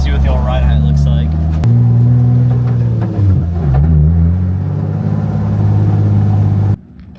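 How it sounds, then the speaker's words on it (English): A Nissan 350Z fitted with BC Racing coilovers driving along, its engine giving a loud, steady mid-range drone close by with a brief shift in pitch, cutting off at the end. "Let's drive this bit around a bit, see what the old ride height looks like."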